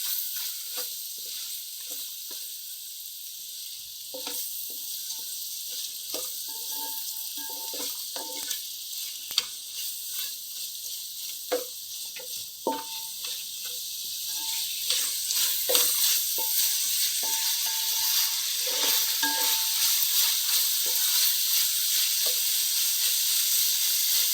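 Vegetables with salt and chili powder frying in a pan for pulao: a steady high sizzle throughout, with scattered scraping and stirring clicks, growing a little louder in the second half.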